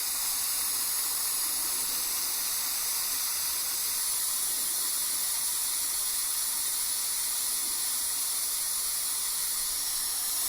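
Steady airflow hisses from a Mini Iwata LPH80 spray gun held fully open at 2 psi on a compressor, a continuous broadband rush holding constant for the whole stretch with no voices.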